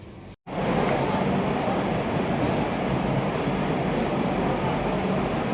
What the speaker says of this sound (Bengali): ট্রেন এসে দাঁড়িয়ে আছে